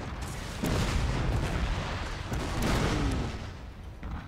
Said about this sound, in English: They're still firing the bloody rockets though.